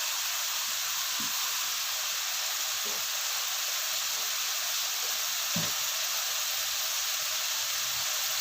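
Large cleaned shrimp sizzling in a pan with softened tomato, a steady broad frying hiss throughout with a few faint clinks and stirs, no talk.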